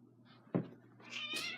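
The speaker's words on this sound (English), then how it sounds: "My cat was meowing to have some food." A domestic cat meows for food, giving a short close call and a louder rising meow, with a faint knock in between.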